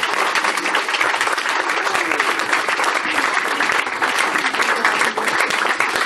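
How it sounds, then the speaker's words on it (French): Loud continuous applause from a festival audience at the opening night of a short film festival, thick and steady clapping that fills the room without pause throughout. "Je vous demande d'applaudir Joyce Nachawati."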